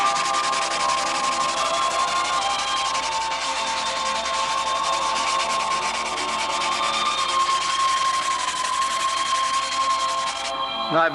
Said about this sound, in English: Because you give it adequate drying time, makes it very, very easy to sand.